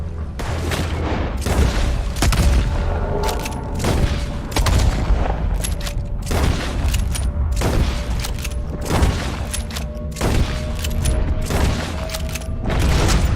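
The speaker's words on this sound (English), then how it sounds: "Put every bullet you got in him!" Sustained gunfire in Red Dead Redemption 2, many loud shots in rapid irregular succession for over ten seconds, heavy booming reports close by with faint ringing tones between them and no talk.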